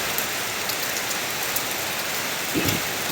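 Summer morning rain falls steadily, a close, even hiss of drops on surfaces with a faint low rumble near the end.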